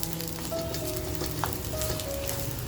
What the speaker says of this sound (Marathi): आता जे खोबरं घेतलंय ते खोबरं टाकून घेते, म्हणजे बघा करपणार नाही.